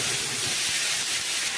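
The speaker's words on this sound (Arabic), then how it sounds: "هنا الفراخ اللي اتبلت بتاعتنا هننزل بيها، اللي هي الشيش هننزل بيها كده" Marinated shish tawook chicken pieces dropped into a very hot pan, giving a loud, steady steam-like hiss and sizzle that carries on evenly for a moment with no talking.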